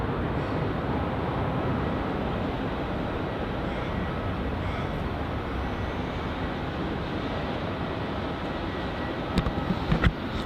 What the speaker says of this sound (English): where this Virgin Australia 737 is taking off from is Juliet